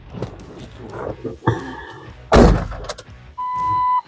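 Someone climbs into a diesel Jeep LJ and the door shuts with a loud, solid thud, preceded by creaks and shuffling, followed by a steady tone chiming inside the cab.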